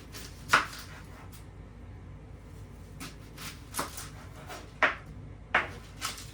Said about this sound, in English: I'm going to chop up my onion, peppers, and my spinach